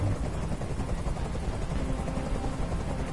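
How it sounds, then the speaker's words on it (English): A video game helicopter's steady, dense rotor drone fills the whole stretch, loud and unbroken, with no voices over it. "Tell that helicopter to get out of here."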